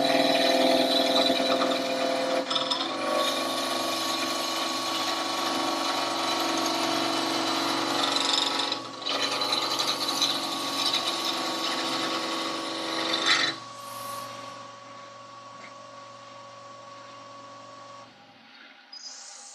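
A woodturning tool cuts into wood spinning on a lathe, giving a continuous close scraping hiss with a steady motor hum beneath, pausing briefly between passes and fading to a quieter rub and hum toward the end.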